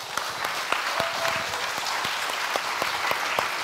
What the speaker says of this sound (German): Den habt ihr euch verdient, den Applaus.